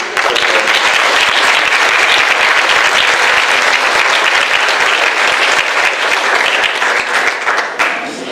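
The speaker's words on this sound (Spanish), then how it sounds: "vamos a darle un aplauso a Luis Miguel" A large panel audience breaks into loud, dense applause for a presenter named Luis Miguel, steady and close throughout with a slight taper at the end.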